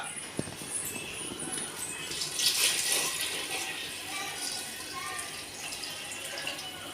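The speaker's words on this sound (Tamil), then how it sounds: "இப்போ நம்ம தேவையான அளவுக்கு இப்போ நம்ம தண்ணி மட்டும் ஆட் பண்ணிக்கலாம்" Water pours and splashes steadily into a cooking pot while making egg biryani, a continuous close trickle that swells briefly midway, with faint background noise.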